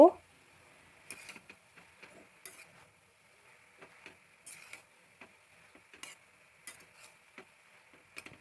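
A spoon mixes ground cumin, coriander and red chili powder into squash in a pan, making intermittent scraping strokes with light clinks over a faint sizzle, close by and in a quiet room.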